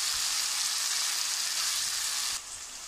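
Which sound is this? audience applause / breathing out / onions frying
onions frying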